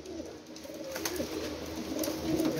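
Pigeons coo softly and steadily nearby over a faint background hum, with no talking.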